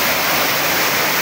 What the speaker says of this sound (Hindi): ये ग्लेशियर, ये पानी पिघल के आ रहा है।